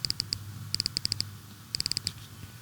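Crisp, rapid ticking clicks in quick bursts from the volume roller on a Nothing Headphone (1) ear cup, close and quiet over a faint background hum.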